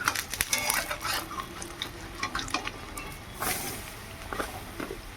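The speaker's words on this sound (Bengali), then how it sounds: "এবার বড়াগুলো আমি উল্টে দিচ্ছি" Chana dal fritters fry in a wok and are turned one by one, with crisp spatula scrapes and clinks over a low sizzle, close and moderately quiet.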